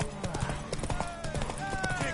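Quick rhythmic hoofbeats of a galloping horse in The Witcher 3 race along under overlapping character voices and background music, moderately close and steady.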